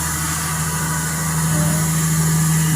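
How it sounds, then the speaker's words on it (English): A Volvo engine runs at a steady idle close by, a constant low hum with a firm tonal drone that holds evenly from start to finish. "As you can see, there is an engine there. It's a Volvo."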